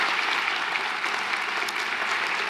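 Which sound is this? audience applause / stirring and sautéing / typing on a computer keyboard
audience applause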